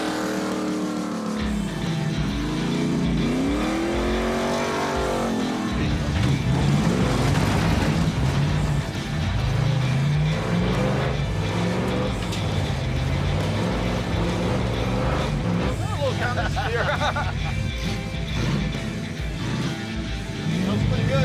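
The Roadkill Garage Wreck Runner race car drives and revs hard, its engine pitch swooping up and down loudly throughout, with people talking and cheering over it.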